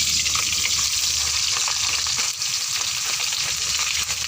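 Small fish fry in a pan of oil for a tomato curry, filling the clip with a loud, dense, steady sizzle that stays close and unbroken.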